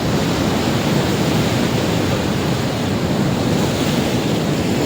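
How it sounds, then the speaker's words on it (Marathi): Ocean waves at high tide wash up the shore in a loud, unbroken roar of surf and wind buffeting the microphone, with no speech. "वरती आहे पाणी, हाय टाईड आहे बघा, भरपूर वरती येतंय पाणी."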